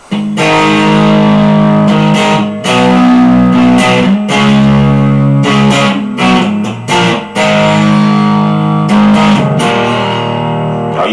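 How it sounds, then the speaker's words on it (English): Electric guitar played on the neck pickup through a Fender Deluxe Reverb pedal, giving sustained ringing chords and notes with reverb and slight grit, loud and continuous with brief pauses between phrases. "My main number one go-to pedal here is my Fender Deluxe Reverb, so I'll turn that on and we'll just have a little listen to that through the neck pickup."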